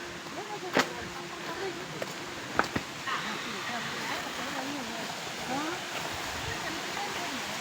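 A waterfall's steady, broad rushing roar fills the whole clip at an outing where monkeys roam, with a few sharp clicks and faint, indistinct voices underneath.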